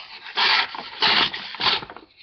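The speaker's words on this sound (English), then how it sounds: "I have to continue slicing and go like that" A Whitetail Cutlery WT-150 knife saws through material with a rough cut, giving three loud, scratchy rasping strokes at a steady rhythm with short quieter gaps between them.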